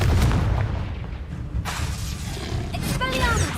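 A blasting spell from the Hogwarts Legacy video game goes off in a sustained roar of booming, shattering noise, with a fresh crash around the midpoint and sparkling, ringing debris trailing off at the end.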